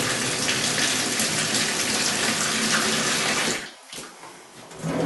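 Tap water gushes steadily and loudly into a bowl as potatoes for chips are put in, briefly dropping away near the end before surging back.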